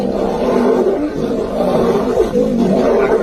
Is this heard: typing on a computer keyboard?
no